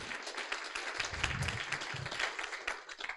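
An audience at a pitch final bursts into steady, dense applause, many hands clapping together at close range for a few seconds.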